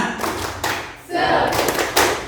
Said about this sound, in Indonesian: Nah, gitu. Tepuk semangat.